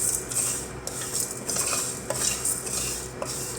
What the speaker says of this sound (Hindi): इसको हम फ्राई करेंगे थोड़ा, यानी कि इनको हम सेक लेंगे